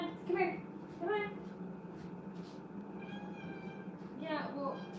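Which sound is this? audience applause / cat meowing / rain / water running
cat meowing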